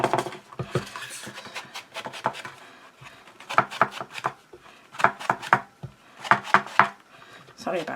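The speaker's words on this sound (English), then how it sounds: "Sorry about the noise, it's on the glass mat." Craft tool rubbing and tapping on a glass craft mat while making a 3D birthday card, with irregular bursts of scraping strokes, some quick repeated, close and moderately loud.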